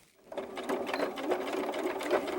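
A sewing machine stitches a doll jacket pocket, starting after a brief quiet moment and then running in a fast, even mechanical whir with rapid needle clatter, close and steady.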